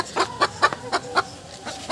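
Desi hens on a poultry farm cluck in a quick, regular series of short, close bursts, a few every second, with no talk over them.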